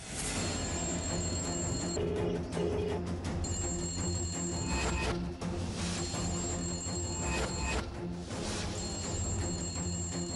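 A telephone rings in repeated electronic bursts with short pauses, set against a dense, loud background of music and noise in a TV serial.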